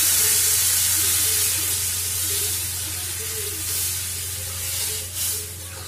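Water poured into a pan of fried potatoes makes a loud, steady sizzle and hiss close by, with occasional stirring scrapes and a brief burst of steam near the end.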